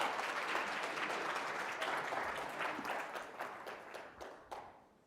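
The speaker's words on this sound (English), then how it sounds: "please give her a round of applause" Indoor conference audience at EUROUT 2022 gives a speaker a full round of applause, dense continuous clapping that swells and then tapers off toward the end.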